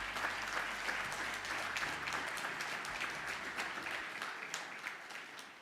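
Voting delegates at the AFC Congress give a sustained round of applause in a large hall, steady and dense throughout before easing slightly toward the end.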